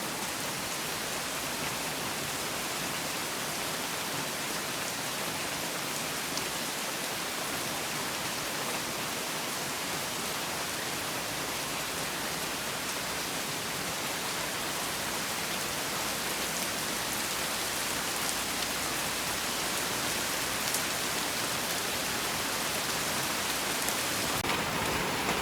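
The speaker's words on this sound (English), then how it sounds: "It's raining." Steady, dense rain pours down on Koh Samui, a continuous hiss of drops on surfaces, loud and unbroken throughout with no talking.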